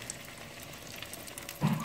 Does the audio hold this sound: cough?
no